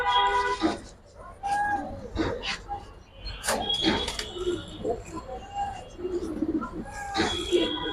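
Sapchila pigeons, red-coloured, coo softly in short bursts nearby, mixed with a person talking over them.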